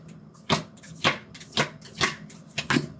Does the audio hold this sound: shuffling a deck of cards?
yes